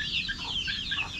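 Chickens cluck and chatter close by in a short burst of overlapping, rhythmic calls, hungry hens eager for feed in a backyard near a mango tree.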